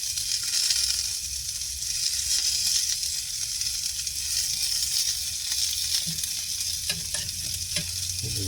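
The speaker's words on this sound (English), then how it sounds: "because it's cast iron, I think it's cooking too much. I don't care, it doesn't matter. We'll still brown off the skin" Chicken skin browning in a cast iron skillet, a loud continuous sizzle and crackle close up, with a few scrapes and bumps of a utensil near the end and no talk.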